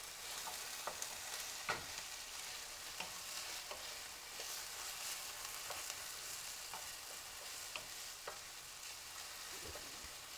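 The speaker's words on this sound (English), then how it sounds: "You fry the potatoes and you just let it sit." Potatoes frying in oil for Persian khoresht gheymeh, a steady quiet sizzle broken by scattered pops and crackles throughout, with no talking.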